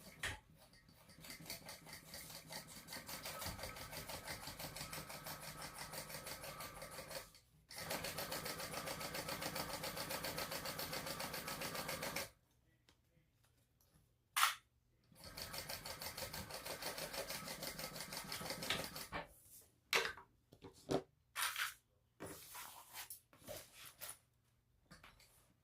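A sewing machine stitches a bag seam with a steady mechanical whir for long runs, then stops and restarts in short bursts for backstitching, close and moderately quiet.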